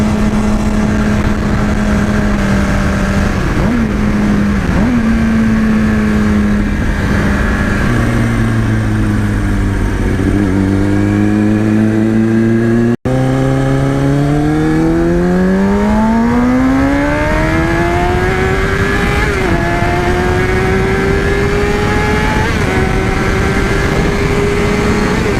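A 2005 Kawasaki ZX6R 636 sport bike screams as it accelerates hard at high speed, its engine note dipping with a gear change and then climbing steadily in pitch, loud and close over constant wind rush.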